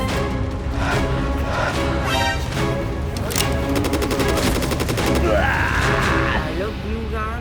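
Rapid gunfire from a superhero action skit, a dense burst of repeated shots around the middle over continuous loud background noise, with people talking throughout.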